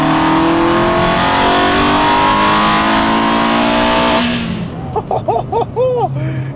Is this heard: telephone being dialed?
no